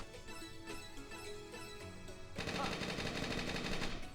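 Gunfire from the tactical video game Lost Dimension sounds over game music. A rapid, machine-gun-like burst becomes louder and denser partway through.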